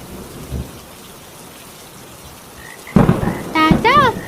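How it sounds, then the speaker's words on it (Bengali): Cartoon heavy rain with thunder: a steady hiss of downpour, a thump early on, then a loud thunder crack near the end, followed by tonal cartoon voices over the storm. "এই যা, বৃষ্টি তো শুরু হয়ে গেল"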